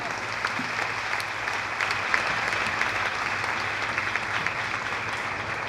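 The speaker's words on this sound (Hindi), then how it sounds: "जब भी कोई आता है तो तालियां बजनी चाहिए।" Church congregation clapping steadily to welcome people forward, a sustained dense wash of applause from a crowd, fairly quiet and even throughout.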